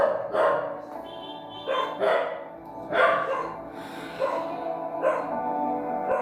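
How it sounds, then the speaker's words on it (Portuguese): Several dogs bark repeatedly in the distance at a livestreamed Christian service, with bursts coming every second or so, moderately faint beneath a man preaching. "Os cachorros acharam de acuar agora."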